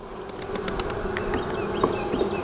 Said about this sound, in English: Watch out, bees.